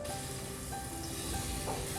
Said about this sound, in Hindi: लो फ्लेम करके 1 मिनट तक हम अदरक लहसुन को अच्छी तरह से भून लेंगे।